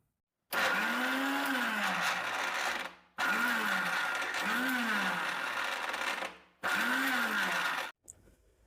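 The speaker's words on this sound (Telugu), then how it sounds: "ఇప్పుడు ఒక మిక్సీ జార్ తీసుకొని కట్ చేసుకున్న ఈ ఉల్లిపాయ ముక్కల్ని మరీ మెత్తగా కాకుండా కొద్దిగా బరగ్గా గ్రైండ్ చేసుకుందాం" An electric mixer grinder coarsely grinding chopped onions in a mixie jar, running loud and close in three whirring bursts of about two to three seconds each, separated by short pauses, with no talking.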